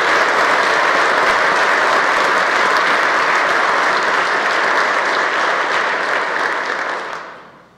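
A large audience at the Kansas State of the State address bursts into sustained, dense applause that holds loud and steady for several seconds before tapering off.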